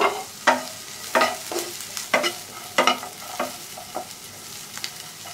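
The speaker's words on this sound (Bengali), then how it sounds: "এখন এর মধ্যে দিয়ে দিচ্ছি ক্যাপসিকাম কুচি এবং কাঁচামরিচ কুচি" Chopped capsicum and green chilies frying with softened onions in a pan, a steady sizzle punctuated by rhythmic spatula scrapes and taps roughly every half second, close and clear with no talking.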